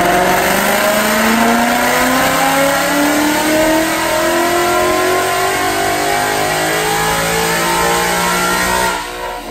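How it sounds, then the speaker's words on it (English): A supercharged 2013 Roush Mustang engine revs hard on a dyno, one long loud pull with climbing rising harmonics that holds near full volume for about nine seconds before easing off at the very end. "let's watch this dyno pull"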